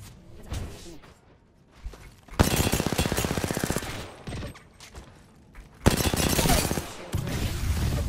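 Rapid automatic gunfire from a competitive shooter game, fired in two long, loud bursts with quieter single shots and thuds between them, all close and dense.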